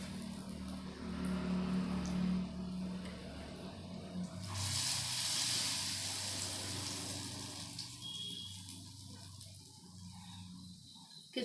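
Small drops of pakora batter sizzle in hot oil in a home kitchen, a steady broadband hiss that swells loudly midway and then settles into a softer, crackling fry.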